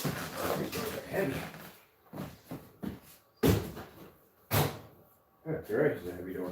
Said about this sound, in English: That garage is a heavy door.